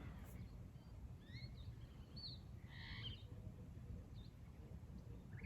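Outdoors, a bird gives a few faint, distant chirps and calls over low, steady background rumble.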